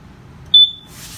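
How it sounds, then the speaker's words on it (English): A propane leak detector alarm in a camper gives a single short, piercing electronic beep over a low background hum, then a soft hiss follows. "this is going to sound the alarm to let you know it's got a propane leak"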